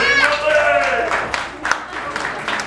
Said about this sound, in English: Round of applause if you remember Wee Willie